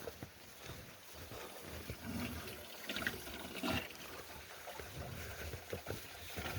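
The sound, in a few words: water poured for cows, trickling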